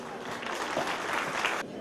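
An audience applauding at an association's 20th anniversary event, a dense, continuous wash of clapping from a crowd that cuts off abruptly near the end.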